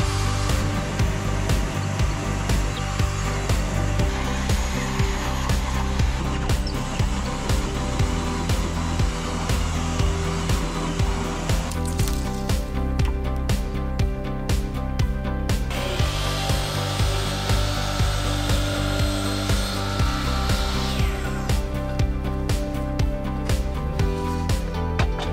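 A drill bores through wooden wall framing to make a line hole for a Mr. Cool mini-split, a steady loud grinding whir that goes on and on and changes pitch partway through, with no talk.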